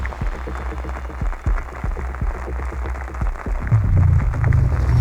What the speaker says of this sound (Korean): 예보에 없던 비가 내리기 시작한 밤